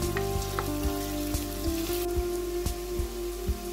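Chopped onions sautéing in a pan, a steady close sizzle and crackle that runs unbroken, with faint periodic stirring knocks and a constant hum beneath.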